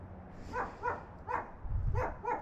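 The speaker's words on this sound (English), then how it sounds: "A little dog barking at me." A small Pomeranian yaps repeatedly from nearby, five short, fairly high barks in an uneven rhythm against faint street background.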